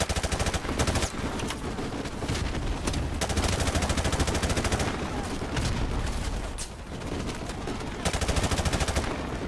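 Heavy gunfire in Call of Duty 4: Modern Warfare Remastered, rapid bursts of automatic shots rattling loud and close almost without pause, with occasional heavier booms layered in.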